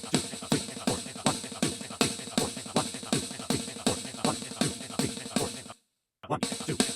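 Fast combined drum rudiments on a drum kit, a tight, even run of sharp strokes in repeating groups that stops briefly near the end before picking up again.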